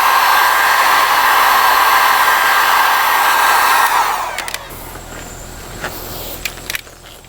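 A hot air blower heats a car bumper panel for paintless dent repair, roaring loud and steady at close range for about four seconds, then cutting off and leaving faint handling clicks and taps.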